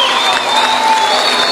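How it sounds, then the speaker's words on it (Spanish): A concert crowd at a show bursts into loud, steady applause mixed with cheering, a brief, dense wash of sound. "quiero que le pido un fuerte aplauso para mi viejo"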